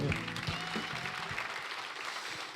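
Audience at a book concert applauds to welcome a politician onto the stage, a fairly quiet, steady spatter of clapping from a crowd that continues throughout.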